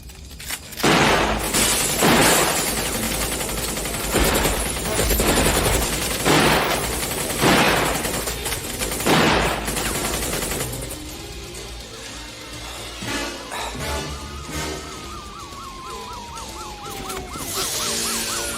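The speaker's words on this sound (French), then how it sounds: "Inspecteur Sévrance, il est armé d'un fusil mitrailleur." Machine-gun fire in an action film crashes out in repeated loud bursts over the first half, then gives way to quieter mechanical clatter and scattered impacts.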